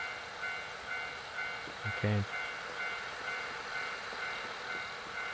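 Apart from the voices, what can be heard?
train at railway crossing in Nostalgic Train video game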